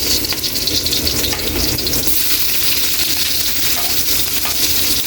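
Garlic and onion sizzle steadily in hot oil alongside browned ginger for a squid adobo, a continuous, close, fairly loud frying hiss with faint stirring scrapes and no talk.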